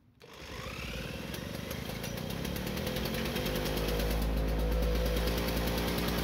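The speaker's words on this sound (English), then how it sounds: "this is also a single-piston, air-cooled two-stroke gasoline engine that runs on two-stroke mixture" East-German military generator's single-piston, air-cooled two-stroke gasoline engine starting and settling into a loud, steady, buzzing idle, close up and alone.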